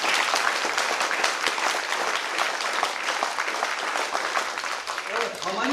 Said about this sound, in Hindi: तो एक बार इंडियन आर्मी के लिए ताली बजाए जोरदार।